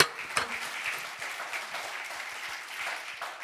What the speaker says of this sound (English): you can hear applause